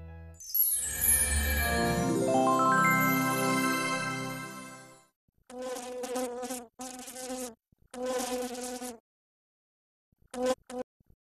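Buzzing of flies in a TV advertisement for a fly repellent, a loud sustained drone of about five seconds, followed by several short bursts of buzzing separated by silence.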